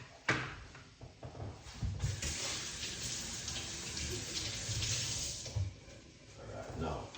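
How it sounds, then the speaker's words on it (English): Water is poured from a container into a blender jar holding a piece of turmeric for juice, a steady close splashing flow lasting several seconds with a few clunks at the start and end. "we're going to put some water into it, and we're not going to use too much water neither."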